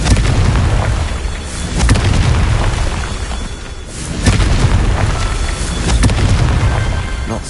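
The Confringo blasting curse in the Hogwarts Legacy video game sets off a run of loud, rumbling explosions in heavy, overlapping booms that swell and recede with no break.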